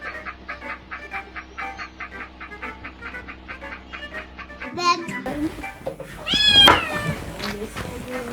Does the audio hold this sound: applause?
no